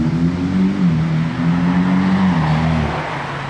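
A Porsche 918 drives along a street in Monaco, its engine close and loud with a steady low drone that wavers slightly in pitch, then eases off and fades toward the end.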